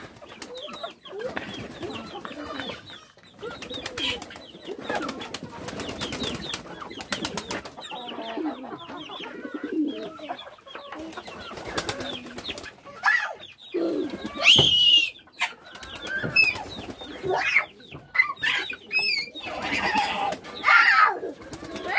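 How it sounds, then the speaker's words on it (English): Pigeons cooing and fussing excitedly around feed in a countryside yard, a busy stretch of close calls and flutters with other farm birds, under intermittent talk. "See the pigeon, them so excited to get some feed."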